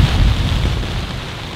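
Dense, steady roar of heavy rain on the Cape Wrath Trail in Scotland, with a deep rumbling low end, loud and constant throughout, no voices.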